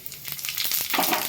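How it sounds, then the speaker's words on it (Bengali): Cumin seeds tempering in hot oil, with bay leaf to follow, for a Bengali green jackfruit curry: a short, close, steady sizzle with crackling pops, no talk. "গরম তেলের মধ্যে জিরে ফোড়ন দেব,"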